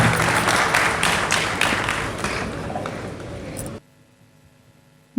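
An audience claps for the poet Aman Shehzadi at a poetry gathering, a loud, busy burst of applause that cuts off abruptly near the end, leaving near silence.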